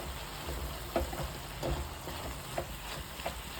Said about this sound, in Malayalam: നാരിയൽ കോക്കനട്ട് ഇതിലേക്കിട്ട് ഇളക്കി യോജിപ്പിക്കുക.